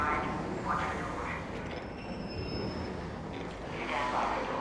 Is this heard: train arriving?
yes